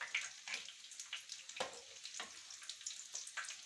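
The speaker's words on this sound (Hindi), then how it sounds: "मीडियम आंच पे आपने इनको फ्राई करना है।" Potato bread sandwiches frying in oil over medium heat, giving a faint, even crackling sizzle with small pops and the occasional clink as they are turned.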